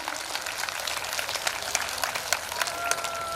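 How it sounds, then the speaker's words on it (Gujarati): Applause from a gathering welcoming a visiting women's group at a religious fire-ritual festival, a moderately distant, continuous patter of hand claps at fairly even level. "ઊંચા હાથ કરી તાળીઓથી એમનું સ્વાગત કરીશું"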